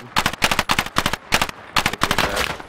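Gunfire in the World War II shooter game Hell Let Loose, loud close bursts of automatic fire in quick rhythmic volleys with short gaps between them.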